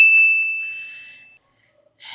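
A single bright notification bell dings once and rings out clearly, its high tone fading away over about a second before brief silence.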